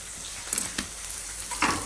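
Curry leaves and green peas fry in hot oil in a pan for oats upma, giving a steady close sizzle with a few brief crackles and spatters, no voices.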